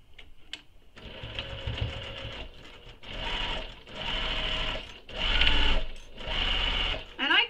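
Sewing machine stitching straight across a small crossbody bag along the seam allowance, several loud bursts of rapid motor whirring and needle chatter separated by short pauses, close up, with no talking.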